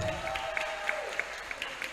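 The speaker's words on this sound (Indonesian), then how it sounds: "Kita berikan tepuk tangan apresiasi" An audience applauds teachers standing at a Christmas service, a soft steady wash of clapping with a few sharper claps standing out at regular intervals and a faint voice or tone running underneath.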